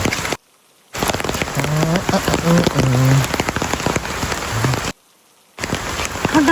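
Steady rain patters on a surface, broken by two brief silent gaps, with faint tonal sounds and clatter mixed into the downpour.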